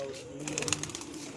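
Pigeons kept as a hobby flock, likely cooing in soft repeated calls over a steady background, with a voice talking faintly at the same time.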